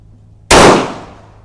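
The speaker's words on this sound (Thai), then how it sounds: "ถัดไปลูกก้าวยิงสับประรดนะคะ" A single loud, sharp 9mm gunshot rings out as a bullet is fired into a pineapple, its bang decaying over roughly half a second after a brief quiet lead-in.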